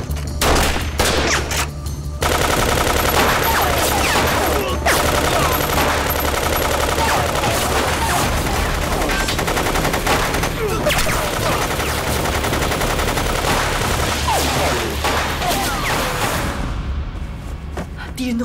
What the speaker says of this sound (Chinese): 敌人的火力太猛了